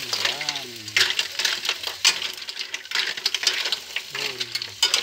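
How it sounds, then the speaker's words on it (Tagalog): Mussels sizzle and fry in a pan while being stirred, with scraping and clattering of the utensil against the pan in bursts; a voice speaks intermittently over the cooking. "tahong nato, ilagay na natin doon sa kawali"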